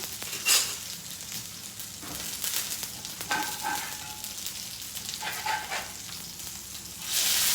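Potato patties fry in a pan, a steady soft sizzle running throughout with a few brief louder crackles and scrapes, and a burst of brighter hiss near the end, no talking.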